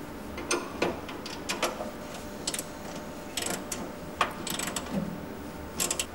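Ratchet wrench tightening a bolt on a car bonnet during a car restoration, a series of quick, close clicking bursts with short pauses between them, heard alone without talking.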